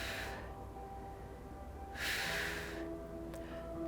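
A person doing a seated hip-strengthening workout with a loop resistance band breathes audibly, with a soft breath at the start and a longer, stronger breath near the middle, against a quiet background.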